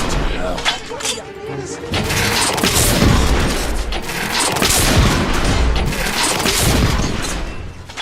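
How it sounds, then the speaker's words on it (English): Heavy artillery fire in a video game: rolling booms and crackling blasts that come in waves, with a voice talking over the barrage. "We are witnessing heavy artillery fire at the"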